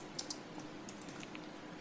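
Quiet keystrokes on a computer keyboard as a configuration name is entered, a handful of light, uneven clicks spread across a low background hiss.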